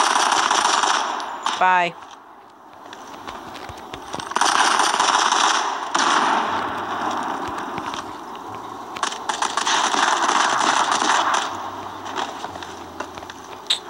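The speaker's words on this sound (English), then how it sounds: "Oh, I hear people shooting, but I don't know where they are." Rapid automatic gunfire from the shooter video game Modern Combat 5 comes in repeated bursts over a constant battle din, with a brief voice heard once.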